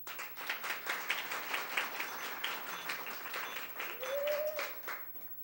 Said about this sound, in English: So I think the whole community deserves a round of applause.